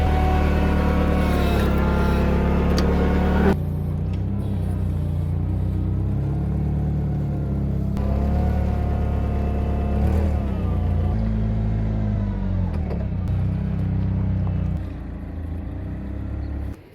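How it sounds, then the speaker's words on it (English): A forklift driving while loading apple bins in an orchard during picking season, its engine rumbling loudly and steadily with a few revving changes, close by and with no talk. "one of my favorite parts of loading and unloading these bins is driving the forklift"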